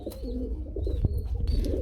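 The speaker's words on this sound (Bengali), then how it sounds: "হলুদ কালারের এক জোড়া রানিং শেখর কবুতর চলে আসলো" A yellow pair of Shekhar pigeons coo in soft, rolling low phrases, close and moderately loud, with a few faint higher chirps and light handling knocks mixed in.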